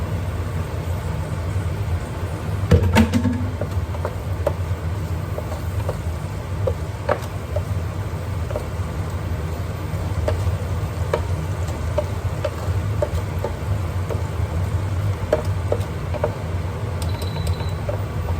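Onion and garlic sautéing in oil for adobong sitaw, a soft continuous sizzle with scattered pops from splattering oil and occasional clatter of a utensil, close by, under a low steady background hum.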